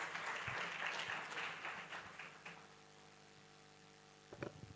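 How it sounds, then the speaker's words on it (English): Audience applause at an academic conference session after a presentation: a burst of clapping from a seated crowd that builds quickly, then thins and fades out, with a short final flurry at the end. "Let's clap for them again."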